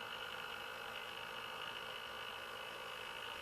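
Electric hand mixer beating zucchini muffin batter in a bowl, a steady unbroken whirring hum at even volume throughout, close by, with no talking.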